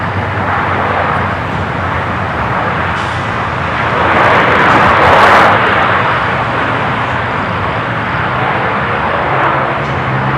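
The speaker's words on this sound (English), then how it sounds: "KLM flight 603, 787-10 Dreamliner coming from Amsterdam" A KLM Boeing 787-10 Dreamliner arriving at LAX from Amsterdam produces a loud, sustained jet roar that swells in the middle as it passes, then settles back to a steady rumble.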